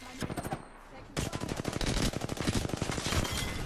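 Rapid automatic gunfire rattles in a shooter video game gunfight, a short burst followed by a long, loud, sustained volley of close shots.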